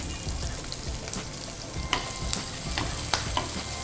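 Sweet corn, boiled peas and chopped onions frying in a pan, a dense close sizzle with repeated spatula scrapes and clicks spaced through the clip, no speech.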